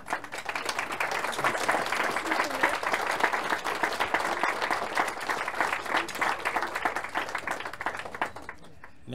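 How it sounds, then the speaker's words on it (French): Audience applause at a 1920s-style Auvergne wedding re-enactment in Saint-Sauves-d'Auvergne right after the kiss, a long, steady, dense clapping from a crowd of guests that holds evenly for about nine seconds before fading. "On peut les applaudir très très fort."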